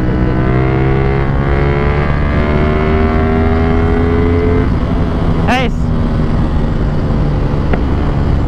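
A GTR 250 motorcycle engine pulls steadily in third gear near 6,000 rpm, a loud continuous drone with rising harmonic tones throughout, and a brief sharp sweep partway through.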